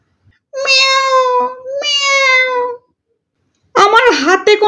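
A cat meows twice in a bedtime moral audio story, two drawn-out, clear tonal cries close up, followed by a shorter wavering meow-like call.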